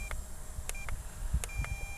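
Several short electronic beeps from an RC radio transmitter marking trim center, single tones spaced irregularly over a steady low hum, fairly clear and close.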